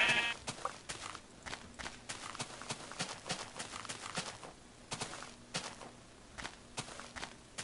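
Minecraft game audio with sheep bleats alongside a steady run of clicking footstep-like sounds and taps, all at moderate volume.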